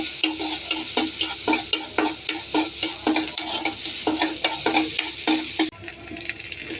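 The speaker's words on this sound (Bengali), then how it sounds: "রসুনটা একটু ভেজে নিই।" Garlic fries in hot mustard oil with a loud sizzle, punctuated by regular scraping strokes of a spoon stirring the pan, then the sizzle softens near the end.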